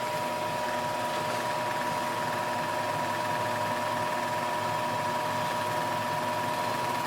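A wood lathe turns a 21-inch birch salad bowl at about 600 RPM, giving a constant even hum and whir with a steady tonal drone and no talking.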